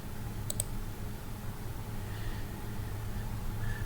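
Two quick, sharp mouse clicks sound close together early on while edges are selected in FreeCAD, set against a faint steady room hiss with no talking.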